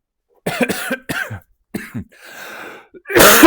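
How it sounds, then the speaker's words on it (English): Several sharp coughs come in quick bursts, close and loud, ending with a forceful harsh cough after a breathy pause. "Apart from coughing, got a bit of a cold at the moment."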